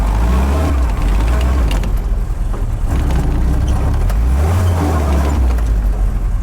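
A 1942 Willys Jeep drives through a sand pit, its engine loud and close with a continuous rumble that rises and falls as it revs and strains in the sand.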